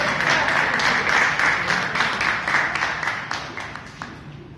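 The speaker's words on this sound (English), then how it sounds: "Big round of applause." An audience at a Toastmasters club meeting breaks into sustained, dense applause after a quiz answer. The clapping is steady and fairly close, then gradually thins and fades toward the end.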